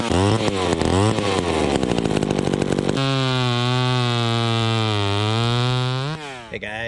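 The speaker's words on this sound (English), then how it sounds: "today I want to show you how to adjust the carburetor on these old chainsaws" A vintage chainsaw engine runs loud and close during carburetor adjustment, revving in rough bursts before settling into a steady high whine that dips and then cuts off abruptly.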